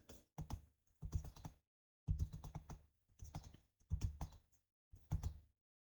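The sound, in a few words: typing on a computer keyboard in Excel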